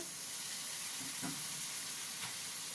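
Eggplant and potato cook in a pan with a little water added, giving a steady, close frying hiss with two short stirring clatters partway through; no talking.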